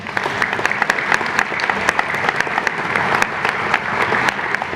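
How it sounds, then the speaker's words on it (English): Steady, dense clapping from an elementary school assembly audience, sustained and fairly close throughout with no voices over it. "Let's give them a round of applause too."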